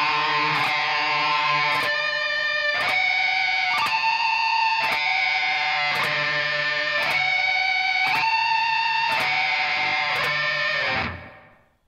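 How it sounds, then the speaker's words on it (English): Electric guitar pinch harmonics through heavy distortion, loud squealing notes picked about once a second with the pitch shifting between them, sustained and ringing alone before cutting off at the end. "we can change the pitch of the pinch harmonic"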